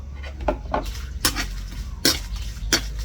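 Dried bird's eye chillies dry-roasted in a pan over low heat without oil, scraped and stirred so that sharp, scattered clinks and scrapes of utensil on metal ring out at irregular intervals over a low background hum.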